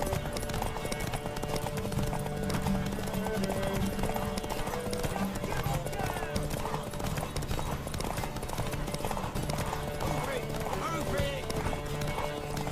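Rhythmic clip-clopping hooves from The Witcher 3: Wild Hunt, steady and continuous, with a horse whinny and voices talking over the top.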